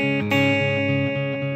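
Guitar picking a 6/8 pattern, ringing arpeggiated notes over a steady low drone, close and moderately quiet, no voices.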